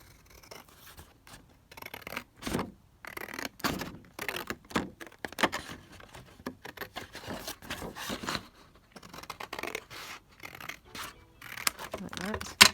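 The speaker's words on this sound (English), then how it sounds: "I'm just going to cut her out" Scissors cutting out a paper figure for a junk journal, a close run of short snips and crisp paper rustles in an uneven rhythm, with brief pauses between cuts.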